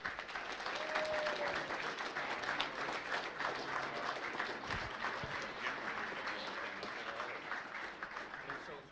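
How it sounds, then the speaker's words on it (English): A crowd gives Army service members a round of applause at a community military salute event, steady dense clapping filling the whole stretch with voices mixed in. "let's give them a round of applause"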